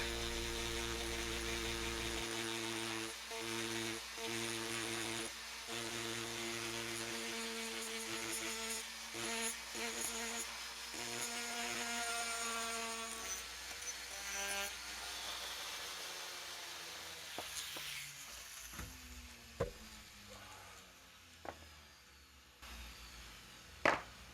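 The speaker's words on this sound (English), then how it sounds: "in my rotary tool, I'll chuck up a sanding drum and I'll sand away the last vestiges of this fabric" A small rotary tool whines steadily at high speed, its sanding drum grinding fabric off the roof of a 1961 VW diecast model car, with a few light knocks toward the end.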